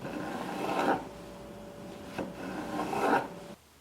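A knife draws lengthwise through a zucchini, slicing it thin enough to stand in for lasagna noodles in a veggie lasagna. Two close rasping strokes about two seconds apart, with a quiet hum between them and no talk.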